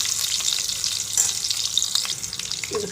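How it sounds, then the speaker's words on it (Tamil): Onion and curry leaves sauté in hot coconut oil for a banana stem dish, giving a steady close sizzle and crackle with bright frying hiss throughout, no voices. "இப்போ கொஞ்சம் வெங்காயமும் கருவேப்பிலையும் சேர்த்துட்டு இது கொஞ்சம் வதங்கி வரட்டும்"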